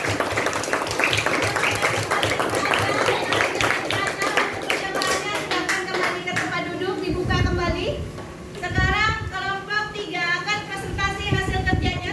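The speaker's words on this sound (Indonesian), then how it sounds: "Kasih aplaus untuk kelompok 2." Classroom applause for a student group among sixth-grade primary school pupils, a burst of dense clapping that fades after several seconds, followed by children's voices and chatter close by.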